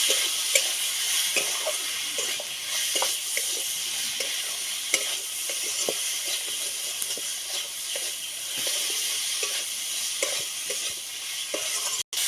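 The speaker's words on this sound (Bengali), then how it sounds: "পরিমাণ মতো হলুদ গুঁড়ো লঙ্কার গুঁড়ো ধনে গুঁড়ো সব মশলা দিয়ে ভালো করে কষিয়ে নেব" Salt, turmeric, chili and coriander powders fry in oil for a rupchanda fish curry, a continuous close sizzle punctuated by rhythmic scrapes of a spoon stirring through the pan.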